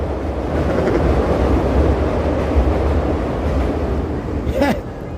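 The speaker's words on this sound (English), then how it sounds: "the sound of the trains" Continuous low rumble of trains passing along a Chicago street in the Lincoln Park area, steady and loud throughout with wind buffeting the microphone.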